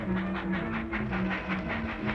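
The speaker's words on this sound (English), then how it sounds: "Come on, the train's going." A departing train in a 1950s radio drama, a steady rumble with rhythmic clickety-clack pulses running throughout, loud and close, with no voices.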